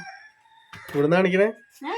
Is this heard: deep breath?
no